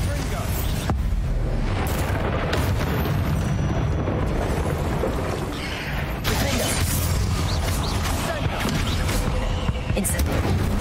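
A Bombarda spell explodes in Hogwarts Legacy, loud booming blasts with crackling debris, one sharp burst near the start and another around the middle, over a dense rumbling game soundscape.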